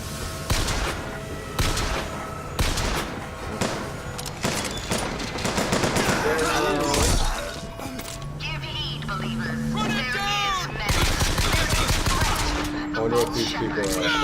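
Gunfire bursts from a BioShock Infinite gameplay session, loud sharp shots and rapid volleys crowding the first half, then a quieter stretch with game music and voices before more firing, with a person talking over it.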